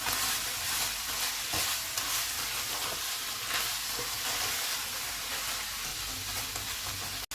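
Minced keema stir-frying in a pan with capsicum, green chillies, onion and soy sauce, giving a loud, steady sizzle with scraping stir strokes throughout and no talking.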